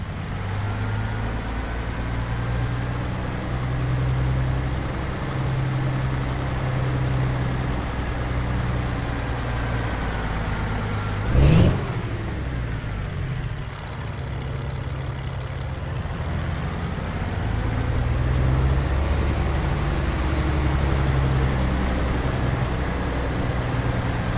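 A heavy truck engine rumbles and idles in American Truck Simulator while the rig turns around to back up to another truck, a low steady drone with one brief sharp bump midway.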